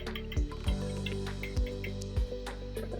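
A sausage corn roll mixture of milk, onion, pepper and salt is whisked in a bowl, giving soft wet sloshing with a few uneven dull knocks against the bowl and no talking.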